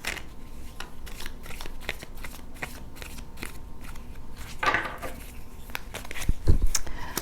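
Tarot cards shuffled by hand give a steady, soft papery riffling and rustling that runs throughout, with a few louder thumps and slaps near the end and no talking.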